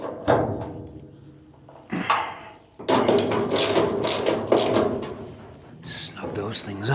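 A ratchet works in bursts of rapid clicking while bolts on car body panels are snugged up, loud and close, mixed with clunks of metal parts and brief speech.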